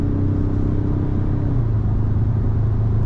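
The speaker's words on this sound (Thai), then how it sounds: "เวลาคุณจะเชนเกียร์เนี่ยคุณตบลงเนี่ยมาแล้วรอบคุณดูดิ" Steady diesel engine drone from a 2020 Ford Ranger Raptor with a 2.0-litre twin-turbo diesel, heard from inside the cab as revs rise after a paddle-shift downshift, continuous and fairly loud.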